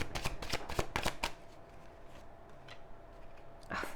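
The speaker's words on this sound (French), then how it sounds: "Je mets tout de suite les cartes du tarot" Tarot cards being shuffled close by: a quick run of crisp riffling flutters for about a second, a quieter lull, then another brief burst of card riffling at the end.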